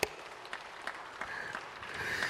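Church congregation applauding during a sermon, a steady wash of clapping from many hands at moderate distance, with a few sharper claps standing out and no speech.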